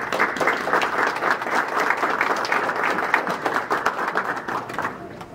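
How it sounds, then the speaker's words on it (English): Wedding guests applaud the couple during the ceremony, a dense steady round of clapping that fades near the end. "So we can round of applause for that."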